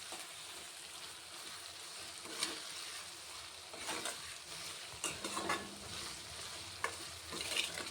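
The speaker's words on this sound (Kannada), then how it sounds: "ಟೊಮೆಟೊ ಇಷ್ಟು ಫ್ರೈ ಮಾಡಿಕೊಂಡ್ರೆ ಸಾಕು" Tomatoes fry in a pan for a quick rice dish, a soft steady sizzle with occasional light stirring scrapes, close but fairly quiet, and no talking.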